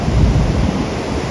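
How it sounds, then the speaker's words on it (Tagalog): Big ocean waves break and roar on an open beach, a loud, continuous low rumble with wind buffeting the microphone and no voices. "Masyadong malalaki ang alon"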